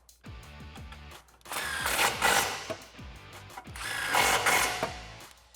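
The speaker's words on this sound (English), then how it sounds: "grab your extension and 13 socket and go over the sway bar and tighten them down" A socket wrench with an extension and 13 mm socket tightens bolts over the sway bar while fitting a Corsa Xtreme cat-back exhaust on a 2018-2020 Mustang GT: repeated ratcheting bursts in two close, clattering runs.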